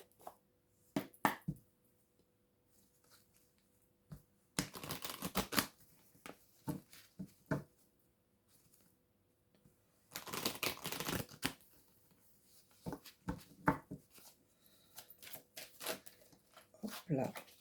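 Oracle cards are shuffled by hand in quiet, papery bursts of rapid flicks, separated by short pauses and a few isolated taps.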